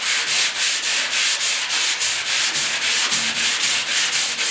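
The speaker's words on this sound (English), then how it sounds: "just keep on sanding," Sandpaper works back and forth over feather fill filler on the steel box of a 1972 Ford 4x4 truck, a steady rhythmic rasp of about three strokes per second, close and alone.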